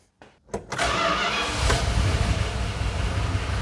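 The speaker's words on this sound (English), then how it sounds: "So we'll turn it on. It's probably going to go right to high idle and see what happens." A 1988 Dodge D100 short-bed pickup truck that has sat unplugged for a while cranks briefly, catches, and settles into a loud, steady high idle that carries on to the end.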